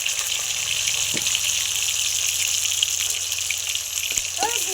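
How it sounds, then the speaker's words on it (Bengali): Pumpkin leaves frying in a pan, giving a steady broadband sizzle with a few faint clinks and a brief spatter near the end, and no talking over it. "এইবার আমি একে একে কুমড়ো পাতাগুলো ভেজে নেব"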